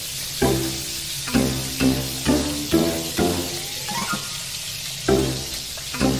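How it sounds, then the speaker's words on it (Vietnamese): Chicken frying in a pan, with sizzling and sharp spattering pops that come in repeated bursts over a steady background hiss, close and fairly loud, no voices. "Rồi sao chiên gà mà khổ quá vậy?"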